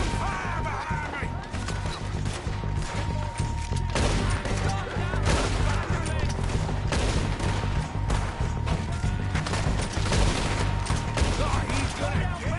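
Gunfire in the video game Red Dead Redemption 2, dense overlapping shots from several guns over a continuous backdrop, with shouted voices mixed into the exchange.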